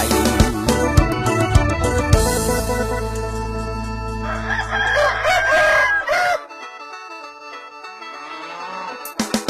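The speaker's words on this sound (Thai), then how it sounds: "ตอนไก่มันขัน" A rooster crows loudly and close, its drawn-out call rising over tonal background sounds, with no speech during it.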